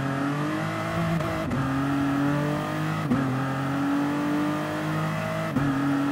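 Race car engines from Gran Turismo Sport hold a steady high-pitched drone at speed, with brief dips around gear shifts at roughly 1.5, 3 and 5.5 seconds, loud and continuous with no talking.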